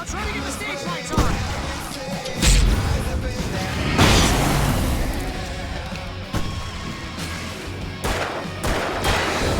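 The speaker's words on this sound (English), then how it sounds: "I can set off more of the fireworks from here and help you out!" Fireworks go off in the video game Alan Wake, several sharp booms and crackling bursts at irregular intervals, loud and close, against a busy background.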